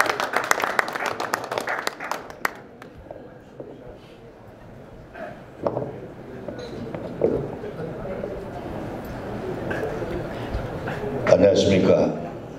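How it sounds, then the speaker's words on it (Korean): An audience at a Korean political policy-briefing event claps to welcome a speaker, with a burst of applause at the start and another near the end, and amplified speech running underneath through much of it. "박수로 맞이해 주시기 바랍니다."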